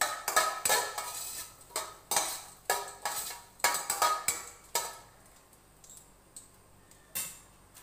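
Cinnamon, two cloves and bay leaves frying in sesame oil in a pan, heard as a run of sharp metallic clinks and taps from stirring, with a faint sizzle beneath and no talk.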